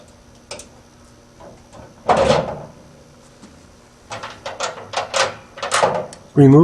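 Door being taken off a hardmount trunnion enclosure, with a scraping, clattering burst followed by a run of short knocks and rattles of metal parts, close by in a quiet workshop.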